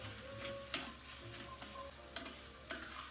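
Mushrooms sizzle as they are sautéed in a pan, a soft steady frying hiss punctuated by a few sharp scrapes or taps of a utensil.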